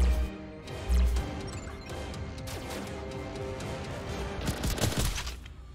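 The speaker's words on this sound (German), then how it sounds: "Oh, das Gewehr geht gut ab." Rifle fire in the virtual reality shooter Boiling Steel: loud, close shots with heavy impacts at the start and around the one-second mark, then a steady stretch of mechanical game noise and a cluster of crashing hits near the end.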